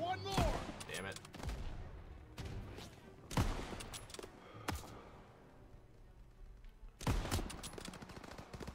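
Bursts of World War II gunfire in Call of Duty WWII, with several sharp volleys and rattling automatic fire spaced through the stretch, some louder and nearer than others, amid battlefield din.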